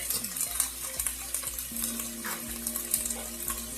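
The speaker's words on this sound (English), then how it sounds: "now that I combined both the ground beef and the onion, I'm going to go ahead, add in the garlic" Ground beef, onion and garlic sizzle in a pan for shepherd's pie, a steady frying hiss broken by regular scraping strokes of a spoon or spatula stirring the mixture, close and clear with no voices.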